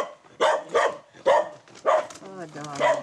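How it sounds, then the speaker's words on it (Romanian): A tethered dog barks close by in a rural Romanian setting: five or six sharp barks in an uneven rhythm, ending in whiny yelps, with a voice speaking between them. "Ăla-i legat cățelul, nu?"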